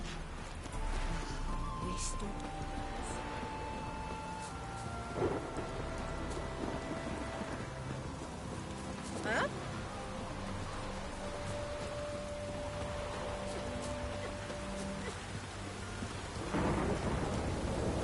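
A thunderstorm with steady rain hissing on surfaces and several deep rolls and cracks of thunder scattered across the stretch, with faint voices under the downpour.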